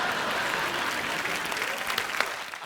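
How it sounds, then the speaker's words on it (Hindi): Studio audience applauding on a comedy talk show, a dense, steady wash of clapping that stays loud and even throughout, with only faint voices underneath. "बड़ी बड़ी तालियां।"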